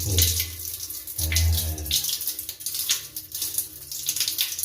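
Water poured and splashing into a toilet drain to flush it, a close continuous gushing and gurgling that rises and falls over several seconds.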